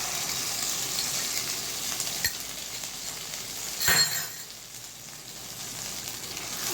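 A ground paste of ginger, nuts, garam masala, nutmeg and mace fries in a pan for fish kaliya, giving a steady close sizzle with a couple of sharp utensil clinks against the pan.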